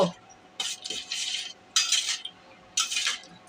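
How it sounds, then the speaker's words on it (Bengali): A spoon stirring cardamom and cinnamon in a pan, scraping strokes in several bursts of about half a second to a second with brief pauses between, close and fairly clear, no talking. "এলাচ আর ডালচিনি আমি ছেড়ে দিলাম এখন নাড়বো"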